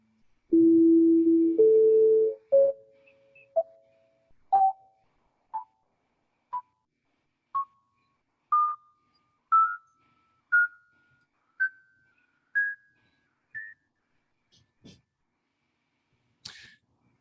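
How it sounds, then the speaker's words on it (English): Overtone series tones played one after another, starting with a long low fundamental and climbing step by step through shorter, higher pitched notes, each clean and isolated against silence. "I'll play for you this overtone series so you remember that this first tone that you hear is the actual fundamental frequency"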